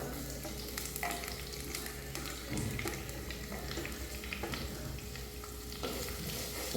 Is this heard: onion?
yes